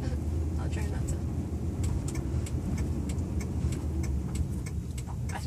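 A Dodge RAM 1500 Hemi Sport pickup is driven slowly through a turn, giving a low steady engine and road rumble inside the cab with faint ticking clicks, like a turn signal, running evenly throughout.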